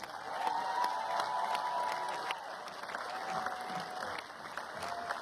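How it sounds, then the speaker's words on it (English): Steady applause from a tennis crowd greets players Marin Cilic and Alexandr Dolgopolov at a grass-court tournament, a sustained, moderately loud wash of clapping with faint cheering and scattered voices underneath. "Keep the applause coming."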